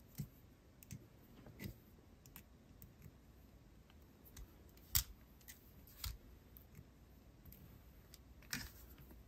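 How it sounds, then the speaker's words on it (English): Small scissors or cutters snipping off excess jewelry wire while making a beaded necklace: a few sharp, quiet clicks spaced irregularly and close by, with no talk. "Cut off the excess."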